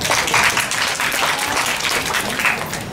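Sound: welcoming applause for a conference presenter

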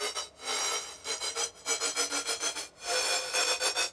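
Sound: uplifter riser sound effect

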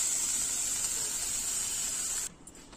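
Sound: bitter gourd frying in a little oil

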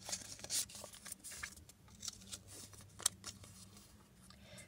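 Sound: unwrapping a paper surprise packet from a vending machine

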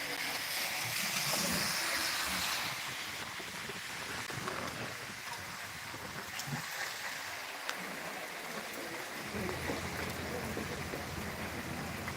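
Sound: heavy rain falling

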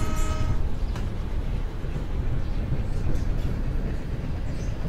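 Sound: train running in the video game Train Simulator 2

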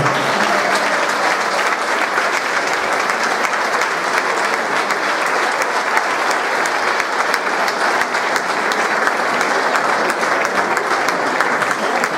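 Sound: audience applause for the AMPA team

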